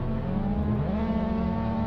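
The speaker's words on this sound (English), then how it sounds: "Drivers are revving up the engines." Mazda MX5 race car engines in the Assetto Corsa sim at Croft, 2021 championship, revving on the grid before the start: a dense, loud engine drone with one pitch climbing as a throttle is blipped.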